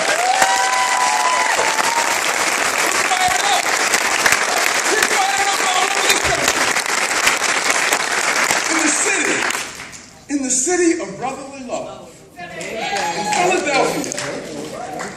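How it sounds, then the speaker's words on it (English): Dense, loud applause from a labor union conference crowd fills the hall for about ten seconds, then breaks into scattered clapping and cheers while a voice calls out over the fading noise. "Give them a round of applause."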